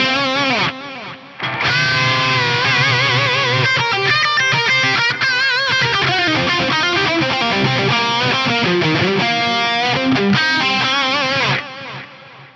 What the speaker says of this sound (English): So echo hall at stock settings.